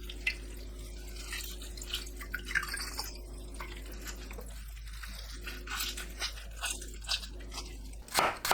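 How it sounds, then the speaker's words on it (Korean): Rinsed fresh seaweed is wrung out firmly by hand, giving close, quiet wet squishes and irregular drips of water over a low steady hum, without any talking. "미역 줄기 방향을 일정하게 추려서 물이 뚝뚝 떨어지지 않도록 꽉 짜주세요."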